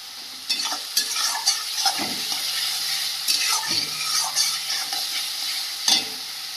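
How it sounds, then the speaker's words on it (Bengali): Ginger garlic chilli paste frying in a pan for a mutton curry, a steady close sizzle with repeated scraping stirs of a spoon against the pan. "আদা রসুনটা ভাজা ভাজা হয়ে গেছে"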